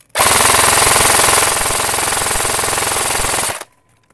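A Lancer Tactical G2 airsoft rifle fires a single sustained full-auto burst of about three seconds, loud and close, with a rapid, even rattle that stops abruptly.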